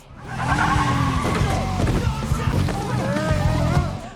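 A car in an action film speeding and skidding out of control, with a loud engine roar and repeated squealing, sweeping tire screeches over several seconds.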